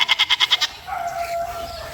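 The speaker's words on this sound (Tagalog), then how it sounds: "Yung kambing oh." A goat bleats in a quick stuttering burst of about seven rapid pulses, close and clear, followed by a longer wavering bleat and quiet outdoor background.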